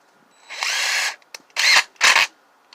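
An impact driver whirs in three short, loud bursts separated by brief pauses, close up, with no talking.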